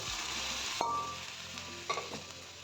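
Water splashes into a hot pan of frying jaluk pepper and cumin, breaking the steady sizzle with a sudden hiss and a clink, followed by quieter bubbling and a few soft knocks. No voices.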